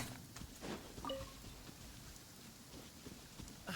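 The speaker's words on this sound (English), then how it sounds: "Rain?" Rain falls steadily in the Genshin Impact video game, a quiet, soft hiss of drops with a few faint tonal blips from the game, and no talking over it.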